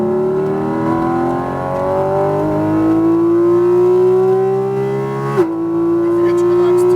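Porsche 718 Cayman GT4 RS accelerating hard on a race track, a loud, near engine whose rising howl climbs steadily, then breaks briefly at a quick upshift and keeps pulling.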